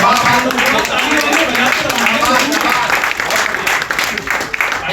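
Audience applause fills a cancer care seminar hall in Bhiwani, a steady dense wash of clapping that runs the whole stretch at a loud, even level, with some voices mixed in.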